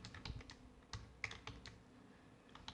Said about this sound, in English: So let's type in print.